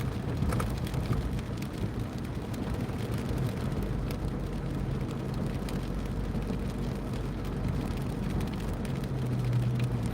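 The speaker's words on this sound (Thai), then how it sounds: "ฝนตกหนักมาก" Heavy rain drumming steadily on a car while driving in Khon Kaen, a dense continuous roar with low road rumble underneath, loud and unbroken throughout.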